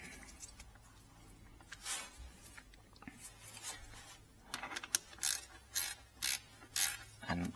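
Bolts are tightened on the joint where an Akrapovic titanium full exhaust system meets the link pipe on a BMW R NineT Racer. Soft tool clicks and small metallic ratcheting bursts repeat close by, growing more distinct toward the end, with no talk.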